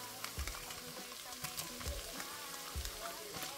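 Ground beef with chili spice and onion frying quietly in a pan, a soft steady sizzle with periodic low stirring thumps about every second and a half, no speech.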